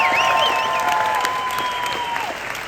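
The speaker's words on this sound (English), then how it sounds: "So give them a huge round of applause." An audience at a gut health test product launch in Oslo claps and cheers steadily, a dense wash of applause with whistles rising over it and holding throughout without a pause.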